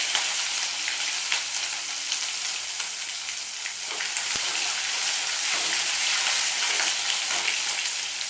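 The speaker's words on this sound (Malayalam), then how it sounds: "ഇതൊന്ന് നന്നായിട്ട് വഴന്ന് അതിൻ്റെ പച്ചമണമൊക്കെ ഒന്ന് പോയി വരട്ടെ" Chickpea masala base ingredients sautéing in a hot pan, with a steady, close sizzling and frying hiss throughout and occasional faint stirring scrapes; no voices.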